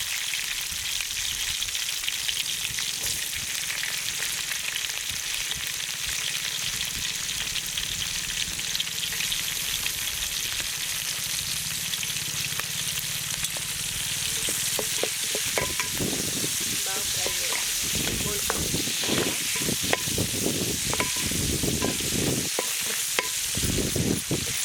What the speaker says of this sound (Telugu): ఆనియన్స్ లైట్గా ఫ్రై అయ్యింది.